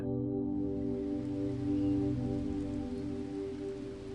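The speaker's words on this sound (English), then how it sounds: "Rain softly pattered against the window beside Lucy's bed." Soft rain pattering against a bedroom window, a faint, even hiss beneath a sustained, calm musical drone that continues throughout.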